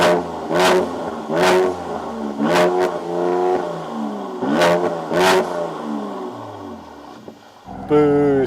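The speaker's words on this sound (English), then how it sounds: "The exhaust also sounds pretty cool." A Mercedes-AMG C43 exhaust in Sports Plus mode revs repeatedly in sharp bursts against the soft limiter, each rising and falling in pitch, loud and close, with pops between throttle blips.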